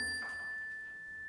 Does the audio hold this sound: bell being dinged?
yes